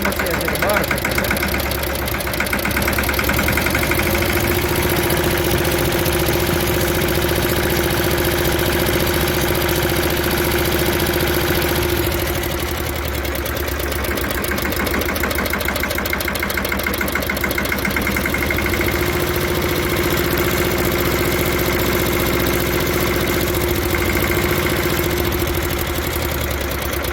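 Yuvraj 215 tractor engine idling with a leaking head gasket, a loud, steady knocking chug that continues evenly up close with a slight change partway, and a voice faintly under it.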